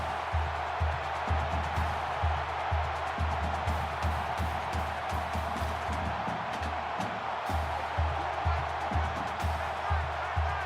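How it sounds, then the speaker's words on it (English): Steady stadium crowd roar fills a college football video game, a continuous dense wash of cheering with rhythmic low thumps underneath and no voices standing out. "The crowd really making it difficult."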